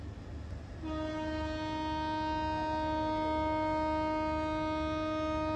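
A long, steady train horn blast from the Uttarbanga Express sounds near Kumedpur junction, a sustained tone over rolling rail rumble after a brief quieter start.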